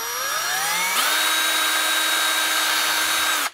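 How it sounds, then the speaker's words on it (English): A power drill spins up with a rising whine, then holds a steady high-pitched drone as it bores into the hollow plastic of an RC truck's scale engine, stopping abruptly. "It's hollow, so you're able to drill in"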